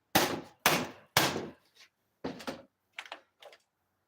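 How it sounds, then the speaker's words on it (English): A hammer bangs on a part of a window air conditioner unit being stripped for recycling, three loud close blows in quick succession followed by several lighter, rattling knocks. "Sometimes all you got to do is hit it with the hammer."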